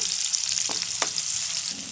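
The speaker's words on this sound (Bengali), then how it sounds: "মশলার মধ্যে পেঁয়াজ ও লঙ্কাকে হালকা করে ভেজে নেব" Chopped onion and green chili sizzle in hot oil with fried spices in a pan, a soft continuous frying hiss with a few brief stirring scrapes.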